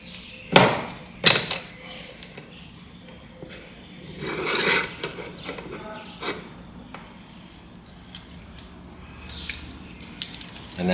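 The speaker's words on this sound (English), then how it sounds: "I'll put my deep socket inside to push this cap out." An arbor press drives a deep socket to push the cap out of an LS3 rocker arm, giving a few sharp metallic clanks and clicks followed by quieter shuffling and tapping of metal parts.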